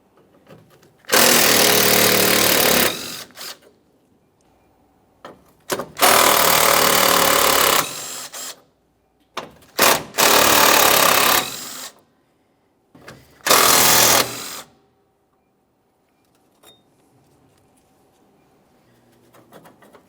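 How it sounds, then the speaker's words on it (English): A power tool on the 10mm bolts holding the bumper cover of a 2008-2017 Mitsubishi Lancer 2.4L, running in four loud, close bursts of a few seconds each with quiet pauses between them. "we're going to remove all 4 of those 10mm bolts as well"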